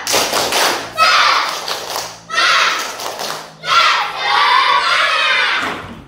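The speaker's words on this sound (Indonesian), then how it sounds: "Tepuk semangat." A primary school class of third graders performs a rhythmic group clap in three loud bursts, with children shouting and chanting between the claps.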